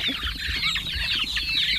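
Chickens cluck together in a busy, continuous chorus close to the microphone, with soft low rumbling underneath and no voices.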